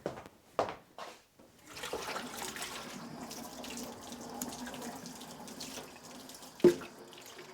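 Hot water runs from a tap to refill a foot bath, a faint steady stream after a few brief knocks and clatters, with a short sharp clunk near the end.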